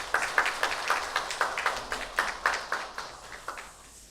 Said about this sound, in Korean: 우리 봉사해 주시는 여러분들에게 감사의 박수 이렇게 하겠습니다